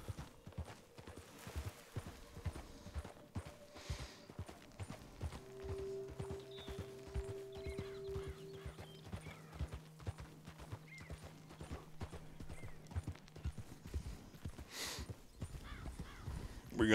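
Horse hooves clip-clop at a walk in the video game Red Dead Redemption 2, a steady rhythmic patter with faint ambient tones behind it.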